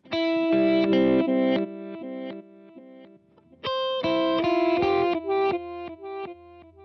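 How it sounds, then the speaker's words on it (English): Electric guitar notes played through a reverse delay, swelling backwards into each chord with a wet, swirling tail; two phrases separated by a short lull. "The next option is reverse delay. It's what it sounds like. It plays back to you whatever you send into it, but backwards."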